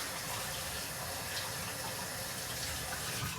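Water pours from a tap while someone washes, a soft, even rushing flow heard alone for a few seconds.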